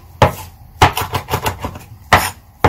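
Fresh herbs minced with a knife on a cutting board for chimichurri: sharp, close thuds in irregular bursts, a few heavy chops mixed with quicker rapid strokes, no talking.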